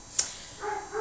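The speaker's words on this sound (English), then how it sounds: "If you can hear anything, that's my dog." A dog gives a couple of short, faint yips and whiny barks from some distance, after a brief sharp click.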